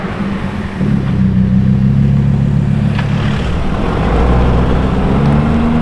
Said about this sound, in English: Take a listen, I think there is another V10 incoming.